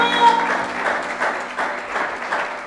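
A church congregation claps and applauds to acclaim the Lord during a sermon, a dense, steady wash of hand claps with a rhythmic pulse running through it, with voices mixed underneath.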